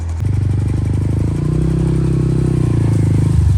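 A motorcycle engine runs steadily and loudly on a snowy, slippery road as the bike is taken out, with a continuous low idle-like hum and no breaks.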